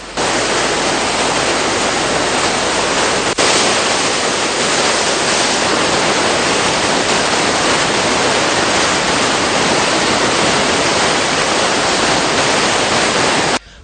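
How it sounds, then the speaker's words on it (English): Water rushes and roars steadily through the opened spill gates of the Kala tank in Anuradhapura, a loud, dense torrent holding constant from start to end with no voices. "Two spill gates of the Anuradhapura Kala tank were being opened by 6 feet each."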